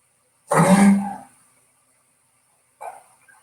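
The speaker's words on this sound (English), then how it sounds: "That's my dog. coughing in the background." A dog lets out one harsh, raspy cough up close, then a much fainter short one a couple of seconds later, with silence around them.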